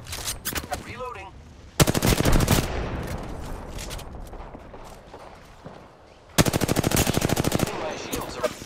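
Close automatic weapon fire in Apex Legends, a long rattling burst, a quieter gap with distant shots and movement, then a second loud sustained burst, with a voice briefly speaking.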